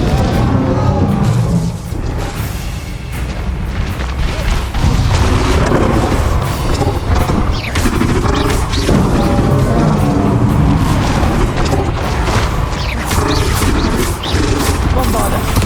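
Bombarda and Confringo spell explosions booming in Hogwarts Legacy on PS5 Pro, a dense, continuous barrage of loud blasts, crashes and rumbling impacts layered with battle noise and spoken spell incantations.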